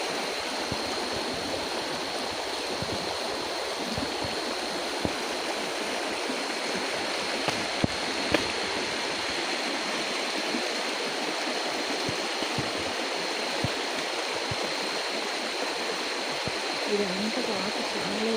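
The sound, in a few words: stream of water rushing near a waterfall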